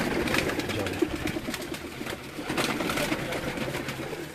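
Pigeons coo in a low, steady murmur from a loft, with continuous soft rustling and bird noise close by and no clear voices over it.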